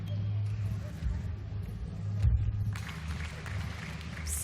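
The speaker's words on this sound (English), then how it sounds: "The audience clapping every move." An audience at a women's gymnastics final in Stuttgart applauds a routine, with steady clapping under a low rumbling hall ambience that thickens near the end.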